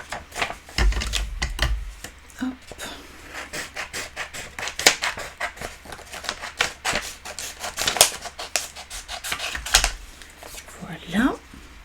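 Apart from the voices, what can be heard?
cutting dry vellum paper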